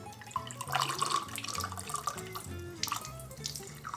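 Water poured in a kitchen while testing food hacks, gushing and splashing in irregular bursts, close and fairly loud, with sharp spatters over a running-tap wash.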